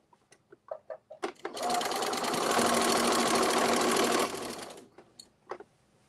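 A sewing machine fitted with a walking foot stitches through quilt layers in one steady, loud run of about three seconds, with a few light taps and handling knocks just before and after.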